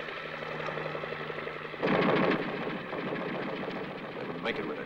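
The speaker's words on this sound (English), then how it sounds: "They wouldn't make it with that goddamn son of a bitch machine gun." Machine gun fire in a war-film battle scene: a loud rapid burst of shots stands out over a continuous rumbling battle background, followed by fainter noise.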